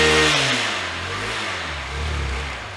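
A used motorcycle engine is revved close up while its condition is checked at up to about 5000 RPM; the roar drops off, then swells again in a steady, loud throttle blip.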